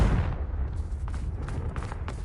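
A Confringo blasting spell in Hogwarts Legacy sets off a loud booming burst at the start, fading into a low rumble with a few faint crackles.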